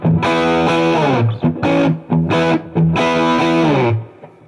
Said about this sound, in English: kind of a bright, stiff, sort of modern distortion